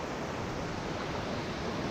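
Steady, loud rushing of a small river's water near Kalu waterfall as hikers wade across on foot, a continuous broadband wash with no distinct footsteps standing out.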